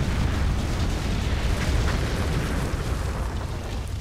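Gunfire and explosions in the video game Empires, a dense, continuous roar of blasts and bursts that stays loud and steady throughout with no pause.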